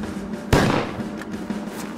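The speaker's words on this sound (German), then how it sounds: "Darauf fallen mehrere Schüsse." A single sharp gunshot-like crack rings out as a sound effect in a First World War cavalry scene, followed by a short rumbling decay over a noisy background.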